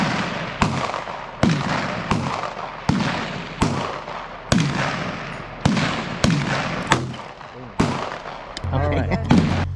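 Gunshots at an outdoor shooting range, about a dozen sharp loud reports spaced roughly every half second to second, close by, with people talking between shots.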